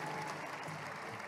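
An audience applauds steadily at a Wacipi powwow exhibition held in a mall, warm, even clapping from a crowd that fills the whole short moment without a break.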